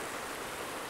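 The Mashavera river rushing through a gorge in Georgia, a steady broadband wash of flowing water, dense and continuous, filling the scene with no voices.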